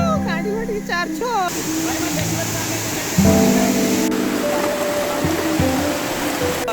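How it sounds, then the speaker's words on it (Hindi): A strong rush of flowing water roars steadily in the background while a person speaks over it intermittently. "पानी का बहाव बहुत ज्यादा है"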